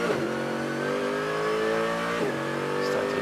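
A race car's engine revs hard and climbs steadily as it accelerates out of a corner during a very wet race, a loud continuous onboard drone with a slight dip and recovery near the end.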